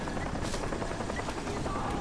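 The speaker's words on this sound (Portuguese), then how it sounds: "O helicóptero aí em cima" Helicopter hovering overhead in the video game Crysis, a steady, dense rotor roar filling the whole clip with faint gunfire-like bursts mixed in.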